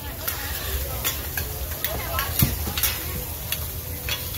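Crispy oyster omelette stir-fried in a giant pan at a busy street stall in Nakhon Pathom, with constant sizzling and rapid metal spatula scrapes and clacks, close up, under a lively crowd.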